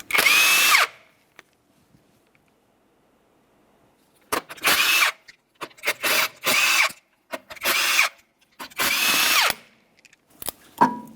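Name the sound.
power tool removing wheel lug nuts on Honda Civic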